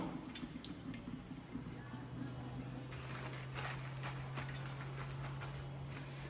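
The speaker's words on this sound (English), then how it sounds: "Give your greens a nice rinse in water" Salad greens rinsed under running water in a kitchen sink give a faint, steady splashing trickle with soft drips, over a low background hum.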